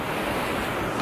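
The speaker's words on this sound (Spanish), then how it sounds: "estamos en la parte donde llegan las olas" Ocean waves rush in at a rocky blowhole on the coast of San Andrés, a loud, continuous wash of surf with wind buffeting the microphone.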